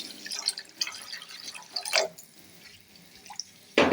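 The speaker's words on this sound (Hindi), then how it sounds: "ये मैं डालूंगी इसमें, और साथ ही मैं इसमें डालूंगी 2 कप पानी" Water, two cups' worth, poured into a chicken vegetable soup in a home kitchen, heard as a close splashing and trickling stream with scattered drips, ending in a sharper splash.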